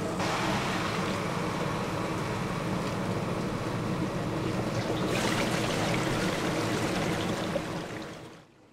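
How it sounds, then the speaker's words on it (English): Water rushes steadily through a flowLab benchtop water tunnel, a continuous close broadband flow that brightens partway through and fades out at the end. "The flowLab benchtop water tunnel seen here is used to demonstrate flow characteristics in small-scale research projects"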